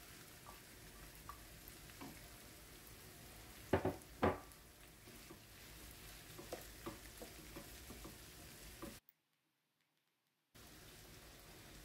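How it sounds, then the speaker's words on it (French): Around 300 g of minced meat fries in a pan, a soft steady sizzle with a couple of louder spatula clacks, broken by a brief total silence near the end. "Ensuite on va rajouter de la viande hachée, donc là j'ai à peu près 300 g de viande hachée"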